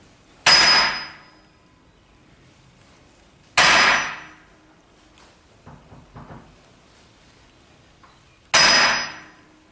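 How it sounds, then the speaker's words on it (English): An 8-pound sledgehammer strikes the rear hub of a 2011 Cadillac CTS three times at slow, separate intervals, each a sharp ringing metallic clang, with faint clinks between the blows. "We're going to just do it a couple strikes at a time and see what's going on. Got an 8-pound sledge and"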